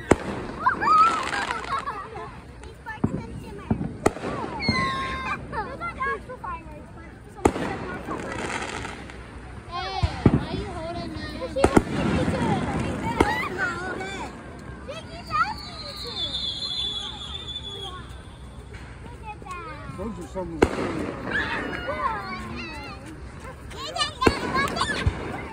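Scattered pre-show fireworks pop and crackle at a Fourth of July gathering, moderately distant bangs spaced irregularly while children and adults chatter and talk nearby throughout.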